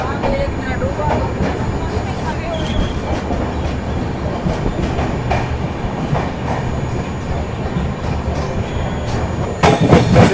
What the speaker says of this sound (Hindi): प्लेटफॉर्म से निकलते ही आप इस ट्रेन का एक्सेलरेशन देखिए, काफ़ी अच्छी खासी स्पीड पकड़ ली है प्लेटफॉर्म से निकलते ही।